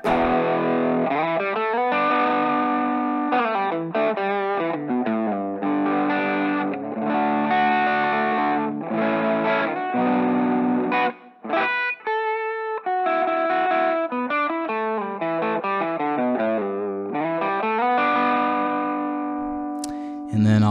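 An electric guitar plays a melodic line through compression, distortion, pulsing tremolo and trailing delay echoes into an amp, sustained notes wavering throughout.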